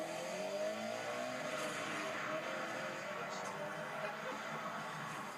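An Audi RS4 accelerates on a motorway hard shoulder with a steady engine roar and rising tone over continuous road and traffic noise, heard at a distance.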